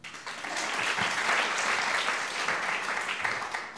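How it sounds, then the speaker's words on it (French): Audience applause on a French television variety show, a full, steady burst of many hands clapping that rises quickly and holds for the whole stretch. "On peut les applaudir"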